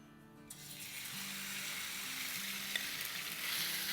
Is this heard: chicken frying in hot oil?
yes